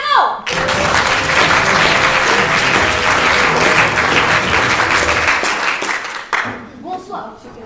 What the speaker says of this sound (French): je vous demande d'accueillir sous un tonnerre d'applaudissements Monsieur Charles Perrault